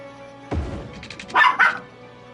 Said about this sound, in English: Yes, that is my dog's name, Nummy Squirrel.